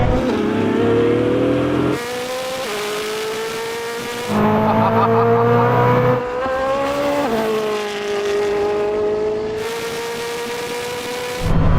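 Koenigsegg Jesko and Bugatti Chiron Super Sport drag racing from 100 km/h in third gear: loud, close engine roar climbing in pitch, broken by several gear shifts, with some tyre noise.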